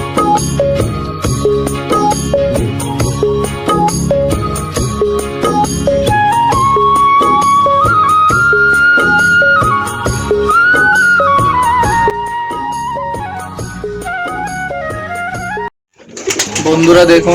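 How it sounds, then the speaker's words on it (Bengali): Pigeons coo steadily throughout at a pigeon farm in Noakhali, Bangladesh, a dense, continuous chorus of low throaty calls close by, ending with a brief pause and a noisy burst. "এটি হচ্ছে আমাদের কবুতরের খামার"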